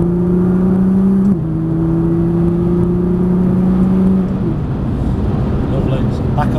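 A Nissan GTR accelerates out of a corner during a trackday at Prestwold Hall, its engine note climbing loudly and shifting pitch twice as someone talks over the drive.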